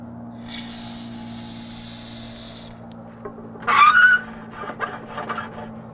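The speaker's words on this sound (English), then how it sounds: "I'll go ahead and spray that spray and stay in there" A steady hissing spray of lubricant onto a jig runs for about two seconds, followed by a short louder burst and some scraping and clicking handling noises up close.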